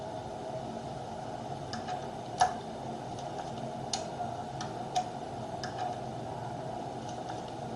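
A torque wrench tightens motorcycle handlebar bolts during a pre-delivery setup, giving a few separate sharp mechanical clicks spaced a second or so apart over a steady low hum.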